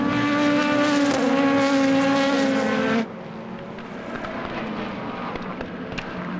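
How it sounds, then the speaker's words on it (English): Endurance race cars of the European Le Mans Series howl past at Imola, a loud high-revving engine roar for about three seconds before cutting off abruptly to quieter, more distant track noise. "Here comes on the inside the Algarve Pro Racing car of Ben Fiscal, and Memo Rojas to repay the favour."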